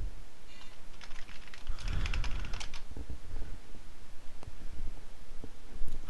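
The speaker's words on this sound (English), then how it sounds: "Let me enter my password." A password is typed on a computer keyboard in a quiet room, a quick run of close, soft key clicks in uneven bursts with short pauses between keystrokes.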